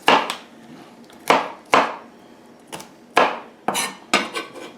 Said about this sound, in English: Garlic, I'm just going to rough chop that